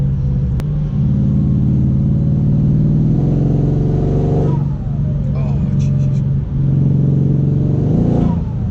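A tuned 1200 hp Mercedes C63 AMG Black Series with an upgraded clutch accelerates hard from inside the car, its loud engine drone rising through the gears with brief breaks at each shift, over about nine seconds.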